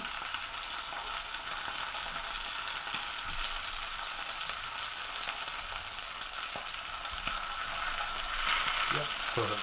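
A Costco-cut steak fries in a pan with a loud, steady sizzle throughout, broken only by a few small crackles.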